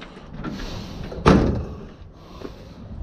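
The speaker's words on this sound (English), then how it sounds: "Close the door." A door at a salvage yard slams shut with one sharp, loud thud that fades quickly, followed by quiet rattling and low background noise.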